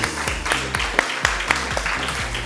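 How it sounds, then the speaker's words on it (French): Audience applause at a French cancer research scientific day, a steady patter of many hands clapping at moderate volume, with a low musical hum running underneath. "Vous pouvez l'applaudir, oui, bien sûr."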